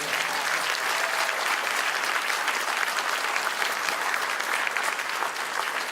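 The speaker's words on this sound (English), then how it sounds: "let's give him a big round of applause." A graduation audience in a large hall gives the MC a big round of applause, sustained and even throughout, a broad wash of many hands clapping that sounds slightly distant.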